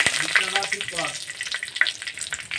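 Dried red chillies and bay leaves hitting hot oil in a pan, a close crackling sizzle with quick spits and pops and a light stir, brief and fairly loud.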